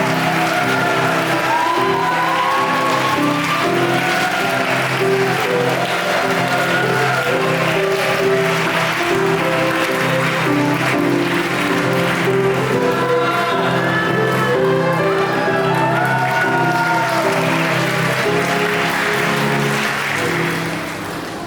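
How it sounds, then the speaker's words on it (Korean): A large wedding ceremony crowd gives the groom's entrance sustained, loud applause, with scattered cheers and whoops, continuing unbroken for about twenty seconds. "우리 신랑 입장할 때 큰 박수로 환영 부탁드리겠습니다."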